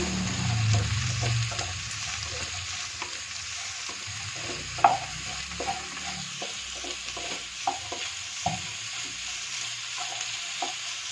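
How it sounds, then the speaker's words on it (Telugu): Carrot and capsicum pieces fry in oil while being stirred, giving a continuous close sizzle with regular scraping taps from the spoon. No voices are heard. "క్యాప్సికము వేసుకొని ఫ్రై చేసుకుంటాను"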